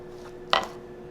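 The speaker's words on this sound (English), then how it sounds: "Just gonna cut the seal here." A blade slices through the seal on packaging around new DeVore Fidelity room hi-fi gear, giving one short, sharp cutting snick about halfway through, close and alone over quiet room hum.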